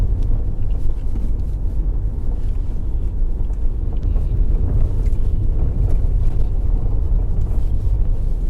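Steady wind buffets the microphone on a road in St. Elizabeth, Jamaica, a constant low rumble with vehicle-like noise and no speech throughout.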